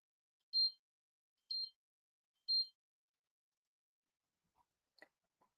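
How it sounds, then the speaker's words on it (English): Alarm sounds three short high-pitched beeps about a second apart, fairly faint, followed by a few soft clicks and handling noises in an otherwise quiet room. "my alarm is going off"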